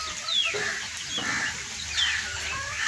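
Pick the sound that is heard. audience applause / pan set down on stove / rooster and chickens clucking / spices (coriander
rooster and chickens clucking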